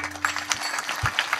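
Scattered hand claps from a concert audience, a brief, fairly faint burst of uneven claps rather than full ovation.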